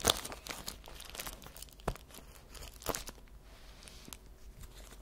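Hands tear into a dense plastic mail package from America holding T-shirts and jeans, with loud crinkling, sharp rips and crunchy rustles that come in uneven bursts, close up, with no one speaking.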